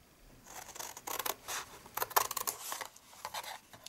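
Scissors cutting and notching card for a gift box, a quiet close series of short snipping crunches in uneven bursts, with no talking.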